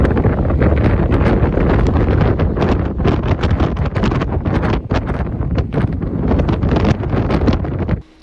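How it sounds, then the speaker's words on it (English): Strong wind buffeting the microphone on a cold, exposed hike, a continuous loud roar with rapid gusting flutter that runs steadily throughout and drops off abruptly at the very end. "I'll play this video that shows just how windy it was."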